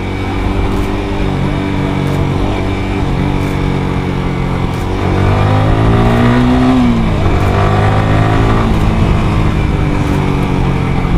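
Yamaha sports motorcycle with clutch and gearbox, engine revving and accelerating in a sustained loud drone that rises in pitch mid-way, then eases and builds again, with no talking.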